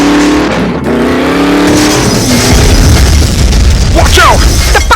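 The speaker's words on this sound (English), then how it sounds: "Clunker's exploding! More fire!" Toy diecast race cars crash on a Hot Wheels track, a loud booming blast and rumbling wreck of a clunker car exploding at close range, with a voice commentating over the noise.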